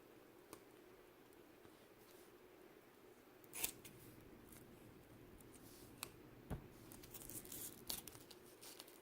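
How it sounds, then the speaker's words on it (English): Scissors cutting a folded Velcro strip in half, giving a few faint, sharp snips and crackly rips spread over a quiet background. "Just go ahead and fold it evenly and cut it in half."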